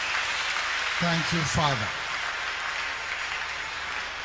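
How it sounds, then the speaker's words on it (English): A congregation claps steadily at a Thursday deliverance church service, continuous clapping throughout with a voice briefly speaking over it midway. "Let's clap unto God and appreciate him."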